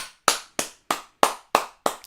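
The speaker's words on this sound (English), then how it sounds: "Round of applause." Six crisp, evenly spaced hand claps ring out one after another, each sharp and close with a short ring-off, nothing else between them.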